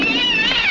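A pet cat meows in a domestic living room, a single drawn-out, high wavering cry that sits close and fairly loud, with faint room noise beneath and no talk over it.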